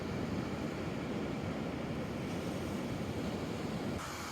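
Ocean surf breaking on a secluded beach of the Olympic Peninsula's south coast, a broad continuous wash of waves with wind rushing across the microphone, fairly loud and unbroken.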